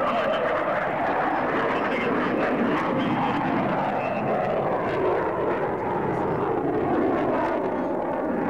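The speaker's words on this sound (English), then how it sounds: "the high-performance GEM414 turbofan is spooled up to their maximum as Marcia selects afterburner" A Boeing Super Hornet fighter with GE F414 turbofans at the 2003 Kern County Airshow, a loud, sustained jet roar heard from a distance across the field, with faint crowd or announcer voices beneath.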